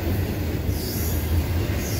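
A CSX intermodal freight train rolls by close and loud, with a steady heavy rumble of wagons and a high wheel squeal running over it.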